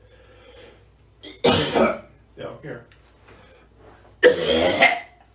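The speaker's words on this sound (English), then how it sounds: "Why am I coughing?" Two bursts of harsh, close coughing during a ghost-hunting investigation at the Cobourg Jail, separated by a short spoken exchange, with quieter breathy sounds between them.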